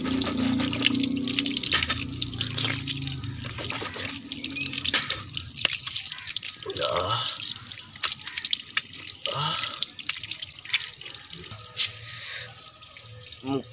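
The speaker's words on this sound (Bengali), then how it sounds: "মুখটা ধুয়ে নিলাম" A tap runs into a sink while someone washes their face in the morning: a steady stream of water with splashes and drips, close by, and a faint voice now and then.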